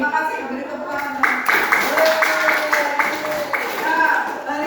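Classroom applause, a short burst of students clapping together in a room, rhythmic and moderately loud, overlapping with people talking.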